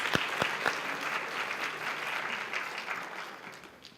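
Audience applause at a homemade music concert, a few sharp individual claps opening into steady crowd clapping that slowly fades toward the end.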